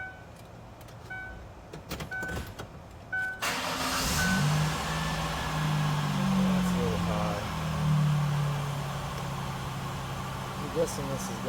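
A Ford Winstar minivan engine cranks and catches after a few seconds of quiet clicks and handling noises, then settles into a steady, fairly loud idle with a droning hum as people talk over it.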